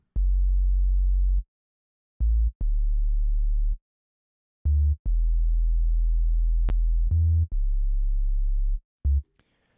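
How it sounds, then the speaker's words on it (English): An 808 bass line from an analog sine wave oscillator in the Serum synth plays a pattern of deep, clean sustained notes with short stabs and brief gaps between them, loud and alone. "for that, I used Serum, but I used an initial patch, and on oscillator A, I found the analog sine wave, and this is the pattern that it plays."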